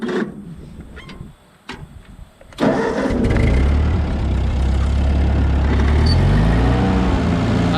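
A hay-baling farm machine's engine cranks briefly in short bursts, then catches at about the third second and settles into a loud, steady, rumbling idle close by.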